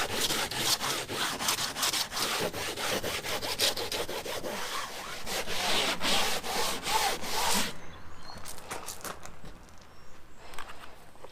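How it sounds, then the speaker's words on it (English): Hand sanding of a catamaran hardtop with abrasive sanding nets, a loud rough scratchy rasp in quick back-and-forth strokes, then lighter, sparser rubbing near the end, close up with no speech. "I would have to say that these nets last at least 10 times longer than sandpaper."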